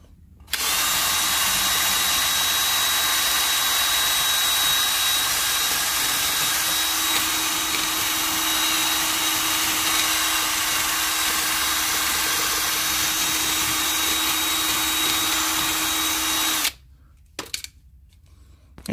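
A wire brush spun on a power drill scouring a Citroen Jumpy wheel hub, a loud, continuous high whine with harsh scratching that runs unbroken for about sixteen seconds, then stops with a couple of brief bursts.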